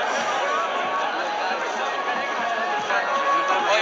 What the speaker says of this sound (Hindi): आप देख सकते हैं काफी यहाँ पे भीड़ है